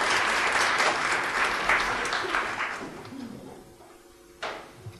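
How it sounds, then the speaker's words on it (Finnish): An audience at a university social work seminar in Lapland gives applause, a dense burst of clapping that fades over a few seconds into quiet room sound with a final knock. "Annettaisiko me aplodit Birgitalle?"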